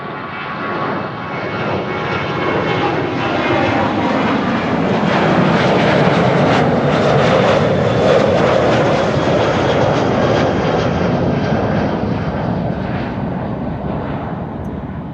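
A 16-year-old Boeing 737-700 roars past at Amsterdam Schiphol, its jet engines a loud, broad rumble and whine that swells steadily, holds strong through the middle and eases off toward the end, with no voices.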